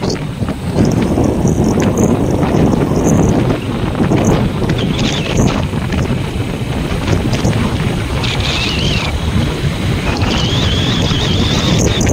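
Loud wind buffeting the microphone over a broad rush of surf on Kondivali beach, continuous throughout, with faint high tones drifting in and out.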